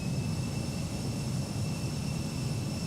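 Steady interior jet engine drone of an Embraer E190 airliner in the X-Plane 12 flight simulator, a continuous low rumble with two faint high whining tones held evenly throughout, no voices.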